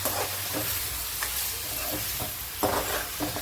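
Food being stirred in a cooking pan, a steady close scraping and sizzle with a few sharper spoon strokes, no voices.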